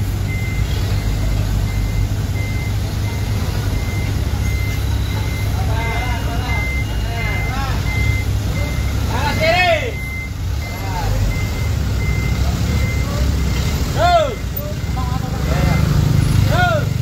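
Beeping from reversing dump trucks, a fleet of 8- and 5-cubic-metre haulers loading mud along a Jakarta road, rings out repeatedly over steady engine rumble and traffic noise, with voices talking nearby.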